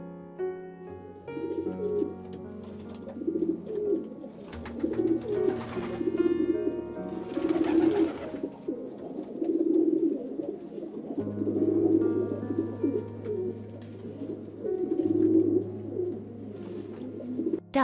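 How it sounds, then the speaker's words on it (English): A pigeon coos in a steady series of soft, rolling calls, repeated every second or two over gentle background music. "pigeon"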